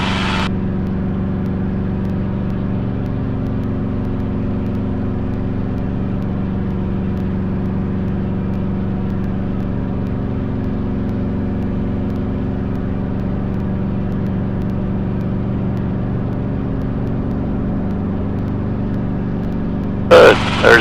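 Training helicopter in a steady 2 to 4 foot hover, its engine and rotor giving a loud, constant droning hum throughout, with a brief higher burst of noise at the very end.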